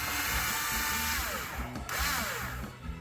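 A power drill backs out Torx screws inside a 1997 Ford Mustang Cobra Convertible, a loud close whirring motor that rises and falls in pitch over two short runs separated by a brief dip.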